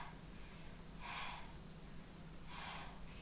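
Two audible breaths during a cardio pilates stretch, each a soft rushing exhale about a second and a half apart, close but quiet, with no talking.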